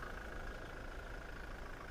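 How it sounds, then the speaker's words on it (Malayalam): A 2019 Toyota Innova Crysta Z automatic idles with a steady, even drone, close and continuous for the whole stretch with no voices over it. "വേറെ എഞ്ചിൻ നോയ്സ് ഒക്കെ നോർമൽ സൗണ്ടാണ്."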